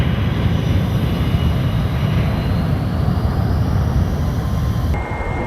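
An aircraft takes off from a runway with a steady, loud engine roar and broadband rush that holds throughout, then drops slightly at the very end.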